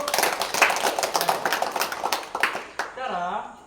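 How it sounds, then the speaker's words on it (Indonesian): A small group claps during a physical education lesson, quick uneven hand claps that thin out, followed by a voice speaking at the end. "tepuk tangan untuk kita semua dulu"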